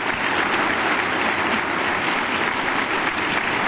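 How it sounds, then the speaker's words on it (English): An audience at a women's luncheon applauds heavily and steadily, a dense even wash of many hands clapping close by. "Let's give them another round of applause."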